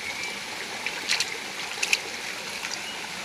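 A mountain stream in Chanthaburi, Thailand, flows over rocks with a steady close rush of water and brief bright splashes and trickles scattered on top.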